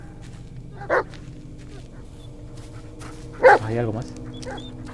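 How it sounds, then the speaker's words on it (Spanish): In the Blair Witch video game, a dog barks twice, a sharp bark followed a few seconds later by a louder bark trailing into a whine, with someone speaking Spanish briefly in between. "¿Qué ya, ya estás ladrando?"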